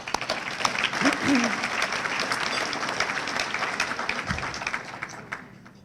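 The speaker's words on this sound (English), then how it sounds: "let's give them a round of applause as well." An audience breaks into steady applause, many hands clapping together, with a voice briefly heard underneath before the clapping tapers off.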